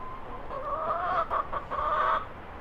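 A chicken in a coop clucks close by with a drawn-out, warbling call and a few short clucks, set over a steady background hiss.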